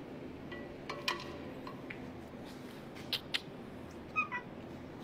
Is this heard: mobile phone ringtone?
no